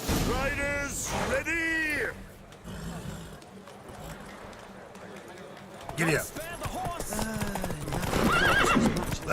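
Horses neigh loudly at a race in The Witcher 3, hooves clip-clopping, with a whinny at the start and more calls and hoofbeats building toward the end, mixed with spoken dialogue.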